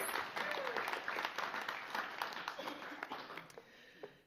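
Audience applause at a guide dog graduation ceremony honoring new canine partnerships and guide dog teams, a fairly distant, quiet patter of many hands that gradually thins and fades.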